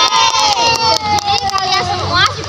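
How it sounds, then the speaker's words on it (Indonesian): A group of young scout children claps and cheers loudly in a classroom, with shouting voices and excited calls mixed over scattered bursts of hand clapping. "Tepuk tangan untuk semua."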